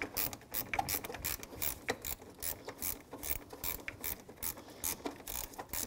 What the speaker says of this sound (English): 7 millimeter socket, loosen this clamp up.